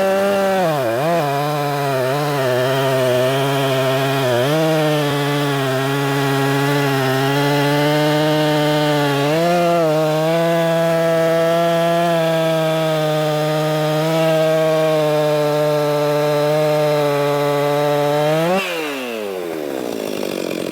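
A stock Husqvarna 262XP chainsaw running steadily near the microphone, its engine holding a high buzzing whine with a few brief dips in pitch, then winding down at the end.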